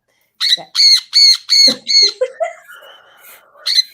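A parrot lets out a series of five loud, harsh squawks in quick succession, followed by softer chattering calls and one more squawk, close and alone.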